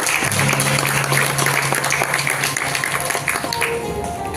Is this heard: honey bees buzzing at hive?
no